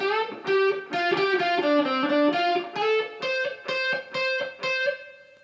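Distorted electric guitar plays a solo line from a song: a run of sustained, bent notes, then a series of evenly spaced repeated picked notes, loud and close with no voice.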